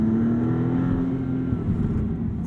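Maserati MC20 twin-turbo V6 pulling hard in manual mode on a canyon road, a loud, steady engine drone holding one rising tone from start to finish with no talk over it.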